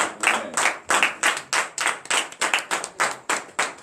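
A church congregation claps in a steady, loud rhythm, about three claps per second, with dense overlapping hands and no voices.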